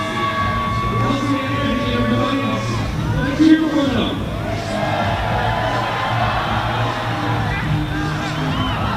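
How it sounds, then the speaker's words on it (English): Crowd at a Bellingham Bells versus Victoria HarbourCats summer-league baseball game cheering and whooping for Kelsey and Angie, a steady loud roar of voices and babble lasting throughout with a brief louder burst near the middle. "Kelsey and Angie, everybody. Let's cheer for them."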